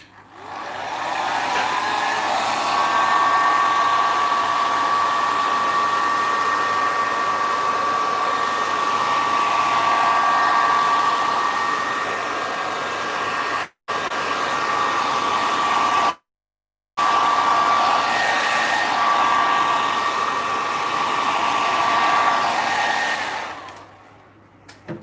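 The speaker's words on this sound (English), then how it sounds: "I might just give that a quick blast with the heat gun." A heat gun blows on alcohol ink artwork in a long, loud, steady whoosh with a faint whine, cut by two short silent gaps before it tails off at the end.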